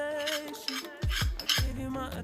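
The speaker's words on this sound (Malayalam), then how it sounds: "ഈ കുരുമുളക് നമുക്ക് ചതച്ച് വേണം" Black peppercorns are crushed for a cold and cough home remedy: a few close, dull pounding thuds mixed with light metallic clinks.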